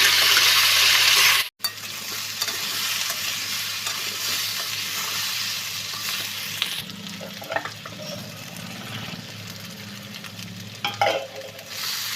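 Small morola fish fry in a pan with a steady, close hiss of bubbling oil that lasts throughout, marked by a short break near the start and occasional faint clicks later.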